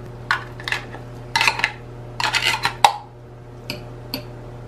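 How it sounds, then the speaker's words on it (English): Oil-packed canned sardines being mashed with a utensil, a string of short close scraping and tapping clinks in uneven bursts over a quiet hum, no speech. "I'm going to mash up now the sardines like I mash up tuna."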